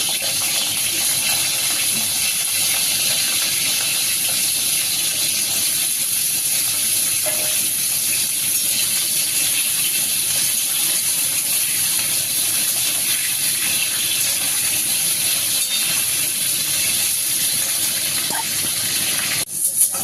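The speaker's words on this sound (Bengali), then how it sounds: "তার জন্য পটল ভেজে নেব।" Pieces of pointed gourd (potol) fry in hot oil in a kadai, giving a loud, steady, unbroken sizzling hiss throughout.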